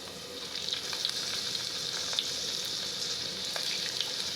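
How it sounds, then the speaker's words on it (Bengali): Prawns fry in hot oil in a kadai, giving a steady, close sizzle with small crackling pops throughout and no talking. "এটাকে আমি একদম গোল্ডেন করে ফ্রাই করে নেব"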